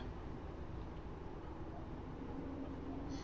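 A Class 156 diesel multiple unit in Train Sim 2020 slips its wheels, heard as a faint, steady mechanical rumble with a low droning tone and no talk over it.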